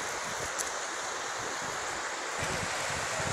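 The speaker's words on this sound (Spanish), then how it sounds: "Ahí no está muy fuerte la corriente. Acá sí. Acá sí está bastante fuerte." Steady broadband rush of a river's strong current, continuous and fairly loud, like a fast current running close by with no voices.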